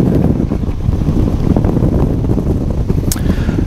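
Airflow rushing over a light aircraft gliding without power after an engine failure, a loud, steady low-pitched whoosh with a faint brief tick near the end and no engine drone.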